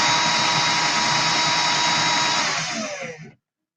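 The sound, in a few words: drill test run for coil building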